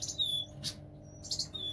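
Canaries chirp from a nest in an indoor breeding cage, two short bursts of high tweets about a second apart, faint and close with a low background hum.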